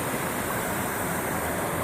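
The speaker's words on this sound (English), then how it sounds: "Dang, there's 3 waterfalls." Three waterfalls pouring nearby, giving a steady, dense roar of rushing water that stays loud and unbroken with no voices.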